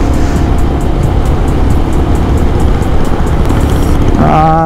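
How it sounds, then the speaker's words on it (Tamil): Royal Enfield Bullet motorcycle engine on a hill road to Valparai, a loud steady rumbling drone throughout with rhythmic pulsing, rising in pitch near the end as it revs, no talk over it. "இதுதான் புல்லட் சவுண்ட்."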